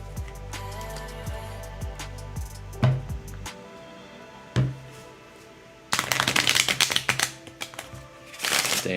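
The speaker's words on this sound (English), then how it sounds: "So I'm gonna clear this all out and give this one final shuffle." Playing cards are shuffled for a solo space-themed board game session: rapid riffling bursts of crisp, close clicks and flutters, followed by a quieter tap or two, with a dense riffle near the end.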